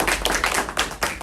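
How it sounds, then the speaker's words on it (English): An audience claps steadily at a devotional weekend love feast program, a brief burst of close, dense hand claps with no talk over it. "clapping for him"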